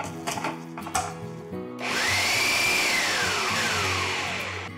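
A kitchen mixer pulsing dry fruits into a laddu mixture, with a few light clinks and rattles before a loud, close motor whir starts and holds for several seconds, its pitch shifting as it spins.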